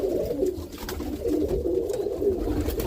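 Roller pigeon cooing close by in a loft, a soft low continuous murmuring coo that rolls on without pause.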